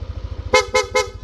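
Three quick, bright honks from a Yamaha Aerox V2 scooter's horn beep in rapid succession over a low idling engine rumble.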